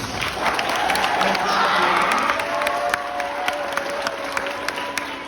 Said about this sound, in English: give it up, the loudest claps for the HOLA parents